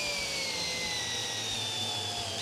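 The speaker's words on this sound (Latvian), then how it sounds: "Un skrūvējam iekšā šo te skrūvi." A power screwdriver drives a screw into stacked wooden beams, its motor whining steadily up close with a slowly falling pitch.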